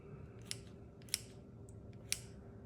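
Scissors snip through breakfast food in three or four crisp, separate cuts spaced about half a second apart, close and quiet over a faint background hum.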